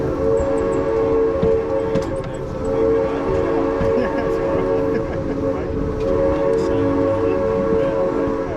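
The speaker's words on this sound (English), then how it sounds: "That whistle means that we are headed into Horseshoe Curve." Yosemite Mountain Sugar Pine Railroad steam train whistle, a sustained tonal blast held steadily over the rumble of the moving train, loud and close, with some voices faintly in the background.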